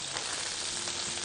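Butter and meat sizzle steadily in a frying pan, a dense continuous crackle with no pauses across the short moment, close and fairly loud, with no voices.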